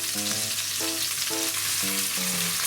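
Pork rolls wrapped with cheese, shiso and thick fried tofu fry in a pan, giving a steady close sizzle with faint recurring tonal notes over it.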